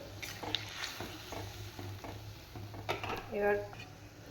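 Fried lentil dumplings are stirred into a vegetable curry of drumsticks, potato and pumpkin in a pan. Low sizzling runs under scraping and utensil clinks, with a faint voice underneath.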